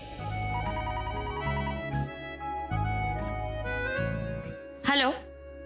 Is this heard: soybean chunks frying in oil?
no